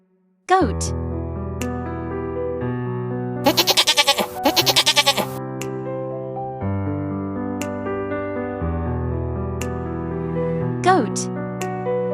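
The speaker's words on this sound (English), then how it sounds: "Goat." A goat bleats in a short run of loud, wavering cries lasting about two seconds, set against steady background music.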